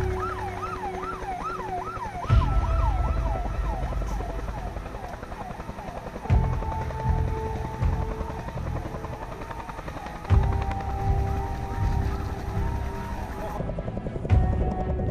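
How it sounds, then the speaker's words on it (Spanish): A Bell 212 military helicopter lifts off for a rescue, its rotor chopping loudly and steadily while a wailing emergency siren sweeps up and down. A narrator speaks over the engine noise. "uno de los tres helicópteros, Bell 212, destinados allí, despega y se encuentra en camino al rescate"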